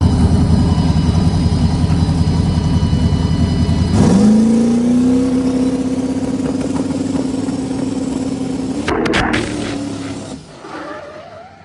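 A turbocharged Mopar 440 car sits on the two-step with a loud, choppy rumble, then launches into a rising, sustained engine roar as boost builds, before the sound cuts and fades away near the end.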